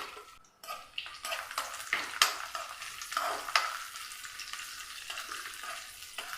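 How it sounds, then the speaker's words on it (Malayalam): Banana pieces sautéing in ghee in a pan, a close sizzle and crackle with repeated stirring scrapes and clinks of a utensil against the pan. "അതിന് ശേഷം നമുക്ക് നമ്മുടെ പഴം ഒന്ന് നെയ്യിൽ വാട്ടിയെടുക്കണം."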